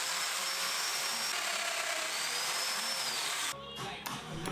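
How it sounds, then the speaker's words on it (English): Domino joiner cutting into birch plywood shelves, a steady high-pitched motor whine with cutting noise for about three and a half seconds that then stops abruptly, followed by brief clatter. "I then set the domino fence to 90 degrees for the cuts to the shelves and the uprights"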